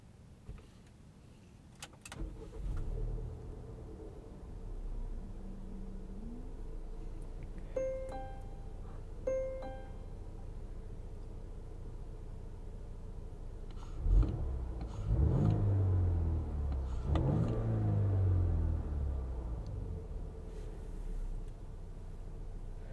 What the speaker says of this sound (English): Let's walk you around this V60 Cross Country and go for a drive.